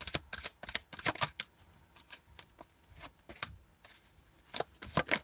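Tarot cards being shuffled by hand, bursts of quick papery riffling and soft slaps repeating in short irregular runs, close and fairly quiet, with no talking.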